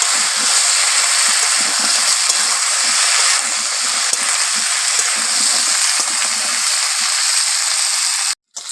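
Potato pieces fry in hot oil in a village kitchen, a steady close sizzle with faint stirring scrapes throughout, cutting off briefly near the end.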